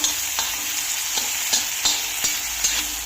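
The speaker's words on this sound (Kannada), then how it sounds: "ಇದಕ್ಕೆ ಈಗ ಸಣ್ಣಗೆ ಹಚ್ಕೊಂಡಿರೋ ಈರುಳ್ಳಿ, ಸಣ್ಣಗೆ ಹಚ್ಚಿಟ್ಕೊಂಡಿರೋಂತಹ ಟೊಮೆಟೊ ಎಲ್ಲದನ್ನು ಈ ಥರ ಚೆನ್ನಾಗಿ ಮಿಕ್ಸ್ ಮಾಡಬೇಕು." Onion, tomato and chilies stirred on a hot tawa for Mumbai-style tawa pulao, with a steady high-flame sizzle and a regular series of spatula scrapes and knocks, about seven strokes, close and clear with no talk.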